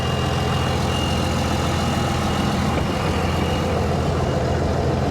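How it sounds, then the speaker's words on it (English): A turbocharged engine drones steadily during a drive, a faint rising turbo whine threading through the loud, even low rumble, close and constant with no talk. "You can hear the turbo spool."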